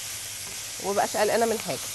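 Meat frying with onions in a pan, giving a steady, close sizzling hiss under a person talking, with a few faint stirring scrapes.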